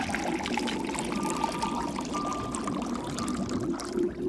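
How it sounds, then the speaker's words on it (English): Water poured back into a hole during a buoyancy demonstration, a steady trickling pour running continuously at moderate level for several seconds with no talk. "take the water, put it back in the hole we had earlier"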